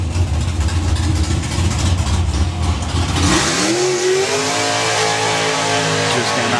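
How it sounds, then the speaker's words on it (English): A drag racing car at a drag strip event roars through a burnout, a rough, loud engine rumble giving way to rising revs, while a voice speaks over the noise. "Just getting that burnout in."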